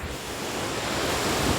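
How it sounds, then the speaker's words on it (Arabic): Sea waves washing onto a beach, a steady broadband rush of surf with wind noise buffeting the microphone, with no speech. "بغيت نشارككم في البحر."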